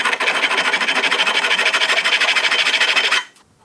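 A file rasping across 2 mm thick box aluminium produces rapid, evenly spaced back-and-forth scraping strokes, loud and close, continuing for about three seconds before stopping abruptly.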